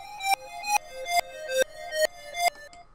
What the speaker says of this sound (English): the notes are reversed, which is a cool effect